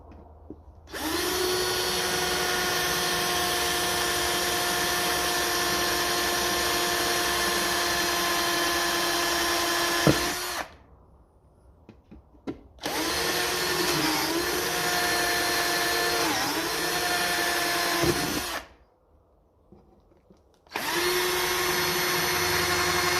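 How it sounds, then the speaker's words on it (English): A power drill with a larger bit bores into metal while fitting a registration plate on a 1954 Ferguson TEF 20 tractor, three long steady whining runs separated by short pauses, close and loud. "Bigger drill bit."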